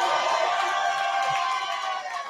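Wrestling event crowd at a WPW show cheering during a title match, a dense, lively roar of voices at a steady level that fades slightly toward the end.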